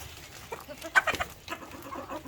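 Chickens cluck and chatter up close in short bursts, busy and irregular, while they peck and feed.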